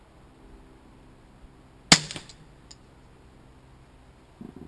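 A single sharp crack from a CCI Mini-Mag .22 round fired from a Ruger 22/45 pistol, with a short ringing decay, otherwise quiet surroundings.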